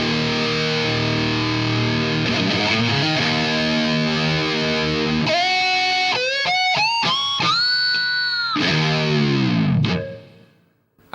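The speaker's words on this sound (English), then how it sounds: "I've got a full-on 5150 kind of sound here." High-gain 5150-style amp tone from a Boss GT-8 guitar processor: heavily distorted electric guitar chugging low riffs, then sustained squealing lead notes and bends, loud and close, ending in a quick fade.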